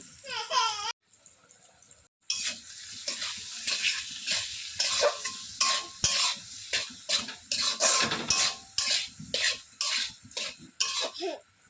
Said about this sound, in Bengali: এবার লবণ আর হলুদ দিয়ে ওলগুলো ভেজে নেব।